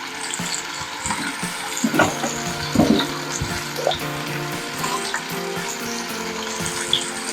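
Potato pieces and bottle gourd stems frying in a pan with a little salt, sizzling and bubbling up close while a spatula stirs and knocks at the pan now and then.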